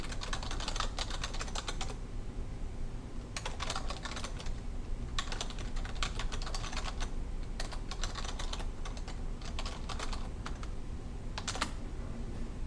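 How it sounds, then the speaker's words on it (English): Fingers type on a computer keyboard in bursts of rapid clicking keystrokes separated by short pauses, close and clear with no talking. "So I'm going to put my insertion point there, press Enter, and type as you requested."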